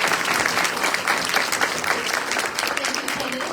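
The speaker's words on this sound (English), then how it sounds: "Let's give them a round of applause." Audience applause for candidates at a county Democrats' town hall, steady dense clapping from a crowd throughout with no pauses.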